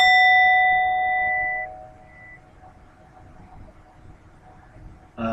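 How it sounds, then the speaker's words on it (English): A store-bought meditation bell in the Tibetan singing bowl style rings once with a bright metallic tone that fades over about two seconds into quiet room noise, and a faint knock is heard at the end. "that's a store-bought meditation bell that's in the style of traditional Tibetan singing bowls or other Asian singing bowl styles"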